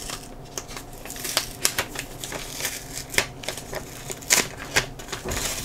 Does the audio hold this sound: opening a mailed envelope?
yes